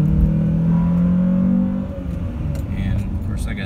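A 2001 Honda Prelude SH with a homemade intake revs in first gear, a loud, close engine drone that holds steady for under two seconds, then drops to a lower idle-like rumble.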